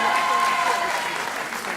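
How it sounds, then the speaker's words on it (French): An audience at a live research-showcase evening applauds a researcher, a dense steady burst of clapping with some crowd voices mixed underneath, brief and fairly loud. "On applaudit alors encore une fois, cher public."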